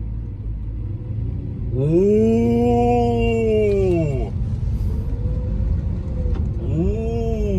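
A used Lamborghini rumbles at idle, then its engine swells into a rising rev as it pulls away, easing back before another short rev; a man exclaims briefly over the engine noise.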